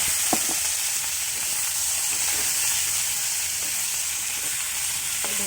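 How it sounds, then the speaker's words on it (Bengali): Onions and chilies fry with nigella seeds in hot oil in a heated village kitchen pan, giving a steady, close hissing sizzle with a few faint clinks of stirring. "এটা একটু ভাজা ভাজা করবো, এখন কিন্তু লবণ দেবো না, শুধুই ভাজা ভাজা করবো।"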